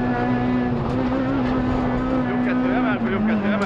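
A Honda Civic Type R rally car at the 2011 Mecsek Rally holds a loud, steady engine drone from inside the cabin, pitch shifting slightly with throttle, while a co-driver reads pace notes over it.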